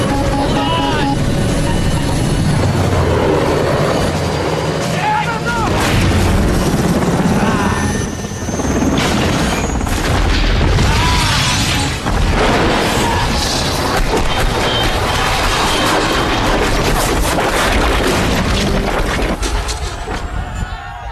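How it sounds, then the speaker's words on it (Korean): A Black Hawk helicopter goes down in a city battle scene from a film, its loud, dense rotor roar mixed with crashing impacts and chaotic noise, continuous and close for about twenty seconds. "압도적이라고 생각했는데 압도적인 헬기가 추락합니다."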